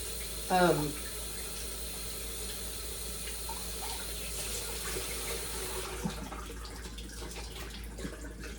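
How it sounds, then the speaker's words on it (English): Kitchen tap running water into a sink to wash lettuce, a steady soft hiss of flowing water throughout, with a brief clatter near the start and a few faint knocks later. "You're just going to run it full of water to make sure your lettuce is clean."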